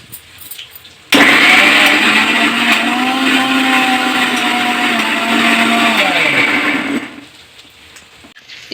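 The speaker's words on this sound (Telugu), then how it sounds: "తర్వాత పేస్ట్ చేస్తా, మిక్సీ చేస్తా." A mixie grinder whirs loudly for about six seconds, blending a chilli and salt chutney paste, its motor pitch sliding down as it spins to a stop, with quiet moments before and after.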